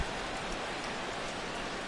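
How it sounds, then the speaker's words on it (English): Steady, even rain falls throughout a PS4 baseball game, a soft continuous hiss at low level with no talk over it. "Rain continues to fall here in the 6th."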